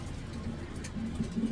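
A racing pigeon coos softly in a loft, a low, throaty rolling call that swells near the end of a short, close recording.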